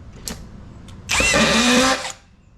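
A couple of small clicks, then a VEVOR auto-feed drywall screw gun whirs loudly for about a second driving a screw, its motor pitch rising before cutting off.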